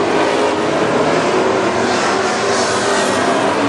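WISSOTA Midwest Modified race cars roaring around the dirt oval at Princeton Speedway, a dense, continuous engine wash heard from the stands, steady and loud without a break.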